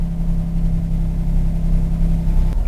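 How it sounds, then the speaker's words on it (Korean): A Genesis car engine runs at a steady idle right after starting, a loud, even low hum with a constant tone and no noticeable rev surge, fading slightly at the end. "시동 한번 걸어 보겠습니다."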